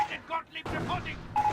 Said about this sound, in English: I hear AT guns firing